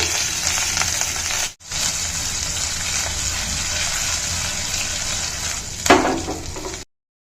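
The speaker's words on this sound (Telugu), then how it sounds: "అల్లం ముక్కలు, కరివేపాకు, జీలకర్ర. సో ఇవి దోరగా వేయించుకోవాలండి." Ginger pieces, curry leaves, cumin and onion fry in hot oil while chutney is being made, a steady loud sizzle with a brief break and a louder stirring burst near the end.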